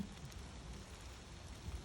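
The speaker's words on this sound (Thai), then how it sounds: "เวลาฝนตก นะคะ ฝนตกค่ะ" Rain falls in a soft, steady wash, faint and even throughout, with no voices.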